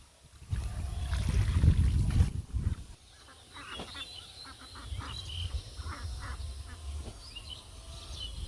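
A flock of ducks calls out close by, with a loud burst of overlapping honking quacks at first, then scattered quieter quacks and rustling continuing behind.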